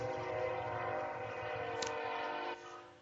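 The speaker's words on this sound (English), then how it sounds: "It's my train." A passing train sounds loud and close, with a sustained horn or whistle tone riding over rumbling wheels and rail noise, then fading slightly toward the end.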